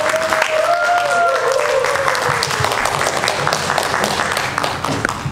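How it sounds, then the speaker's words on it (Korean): Audience applause at an outdoor festival stage during the 2023 Sinan island salted shrimp festival, loud continuous clapping with cheers and a voice rising over it, sustained throughout. "여러분 큰 박수로 맞이해주시기 바랍니다."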